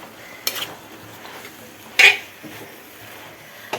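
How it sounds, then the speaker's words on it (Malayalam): Avial, a mixed vegetable curry with ground coconut paste, stirred in a pot: a few scattered utensil scrapes and knocks, with one sharper clatter near the middle, over quiet room background. "അപ്പോൾ അതൊന്ന് ഇളക്കി മൂടി വെക്കട്ടെ കേട്ടോ."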